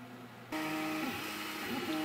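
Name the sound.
3D printer printing an Arduino mounting plate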